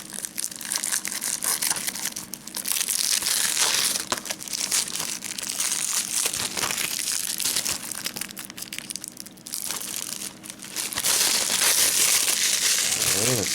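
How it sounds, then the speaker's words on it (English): Tenacious plastic shrink wrap being torn and crinkled off an anime DVD case of Getter Robo Arc, loud close crackling and crumpling in repeated bursts over several seconds, with no talking. "Let's get this plastic off, even though we got some tenacious plastic there"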